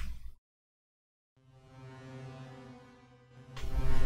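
A C major 7th chord played through the Irid reverb plugin with only the wet signal, blooming up after a short silence into a smooth, sustained harmonic wash that swells and then fades.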